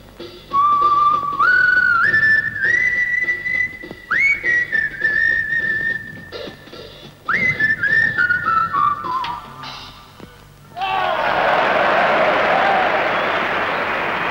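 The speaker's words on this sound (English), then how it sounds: "he whistled a little tune" A man whistles a short, bright melodic tune alone, with rising and sliding notes in a few phrases, followed by a burst of crowd applause.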